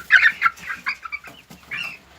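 Hens clucking close by, a short burst of loud, raspy clucks followed by softer murmuring calls and a final drawn-out cluck, with no talking.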